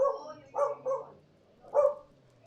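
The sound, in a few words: dog barking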